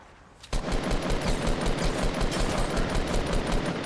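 Rapid, dense gunfire from a hunting rifle and other weapons in a shooter video game bursts in after a quiet half second and continues loud and unbroken to the end.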